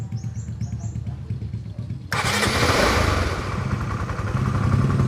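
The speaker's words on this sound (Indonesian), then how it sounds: "saya hidupkan motor kontak on" A Honda CBR 150R motorcycle engine, on a bike with a battery and charging fault, turns over and fires up abruptly, then idles loudly and steadily with a busy clatter; a voice is heard quietly beforehand.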